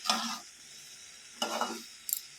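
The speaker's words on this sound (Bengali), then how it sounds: "তরকারিটা খুব ভালো করে আমি নাড়াচাড়া করব অল্পক্ষণ সময় ধরে" Mixed vegetable curry stirred in a pan, two short scraping bursts of the spatula with a faint sizzle between them and a quick clink at the end, close and quiet with no talking.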